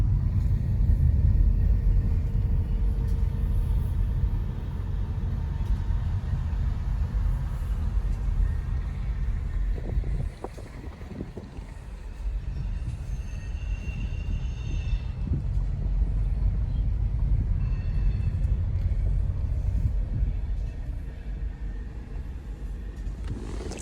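Trains in a rail yard produce a steady, low rumble that runs throughout, with a heavier roll early on and some faint metallic squeals and clanks from the passing wagons.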